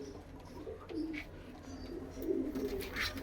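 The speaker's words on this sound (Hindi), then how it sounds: "बहुत नस्लदार कबूतर हैं भाई" Pigeons of a pedigreed breed coo softly in repeated low murmurs, several birds calling from a loft, faint and steady against a low background hum.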